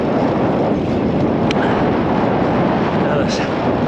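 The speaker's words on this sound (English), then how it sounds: "Got a stiff headwind, but nothing like yesterday." Strong headwind roaring over the microphone during a bike ride west along a suburban road, a steady loud broadband rush that stays constant throughout with one brief sharp tick partway through.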